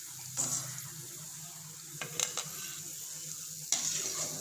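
Chickpea vadai frying in hot oil, a steady close sizzle with a few brief clatters and stirs of a ladle in the pan, no talking.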